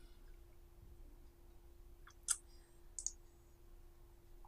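Two faint computer mouse clicks, a sharp tick followed by a second one a moment later, close but quiet over a steady low electrical hum.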